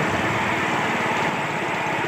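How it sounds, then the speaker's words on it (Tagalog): Diesel engine of a rail trolley running along steel rails, a steady loud drone with rattling bearings and a faint rhythmic clatter, continuous and close with no talking. "Medyo maingay lang talaga guys yung tunog ng makina at saka yung tunog ng bearing"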